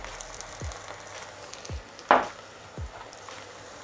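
Red onion sizzling gently in a pan as sugar is added for an onion chutney, a soft steady fry with a sharp clatter at the midpoint and a few light knocks around it.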